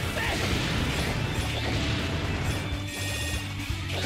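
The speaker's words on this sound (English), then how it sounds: "This is a massive elevator." A massive elevator grinds steadily upward in Mega Man X8, a dense mechanical rumble with clanking hits and game music layered over it, loud and continuous throughout.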